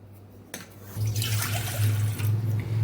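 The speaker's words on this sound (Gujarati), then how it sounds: "પાણી ઉમેરી દીધું અને એમાં આપણે ગોળ પણ ઉમેરી દઈશું" Water is poured steadily into a cooking pot for Gujarati lapsi, a sweet cracked-wheat dish, after a sharp knock. It makes a continuous splashing rush against a low, steady hum.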